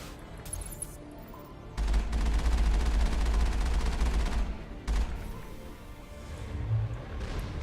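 Rapid gunfire from a strong pistol in the video game Mass Effect bursts loud and close in a dense barrage for about three seconds, then drops back to quieter game ambience with a brief second burst.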